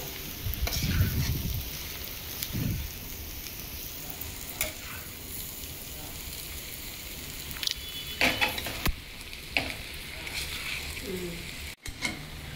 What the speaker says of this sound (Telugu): కొత్తిమీర కరివేపాకు వేసిన తర్వాత అంత లైట్గా వేగింది. ఇలానే వేపుకోవాలి.